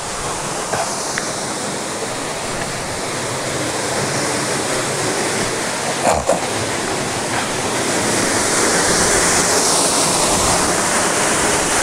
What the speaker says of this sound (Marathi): बघायचं झालं तर हा पाणी जो आहे तो अशा पद्धतीत पाणी या ठिकाणावर मारत आहे